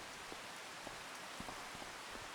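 Steady rain falls on a farm with an even, dense patter and scattered sharper drops landing on a surface close by, with no voices.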